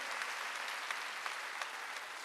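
A church congregation claps together during a Korean Wednesday worship service, a faint, even patter of many hands that carries on for a couple of seconds with no voices.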